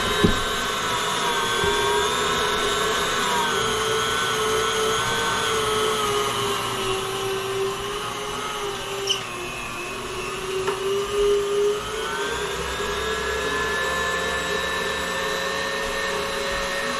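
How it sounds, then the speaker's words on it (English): A meat grinder runs steadily through chunks of meat and fat for backyard hot dogs and hamburgers, a loud continuous motor drone with a whining hum that holds without pause and carries no talk. "we'll just fast forward through the grinding of the meat"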